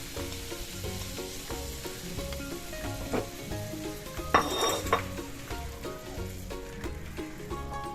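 Moong dal poured into a hot pan of mixed winter vegetables for a Bengali dal, giving a steady close sizzle and frying hiss with a brief louder burst and faint utensil clinks partway through.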